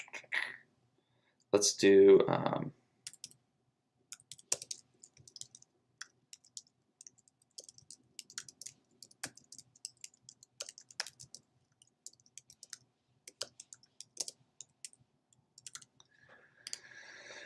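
Rapid computer keyboard typing as an address is entered, a long run of light, irregular key clicks up close, with a brief burst of a voice or other noise near the start.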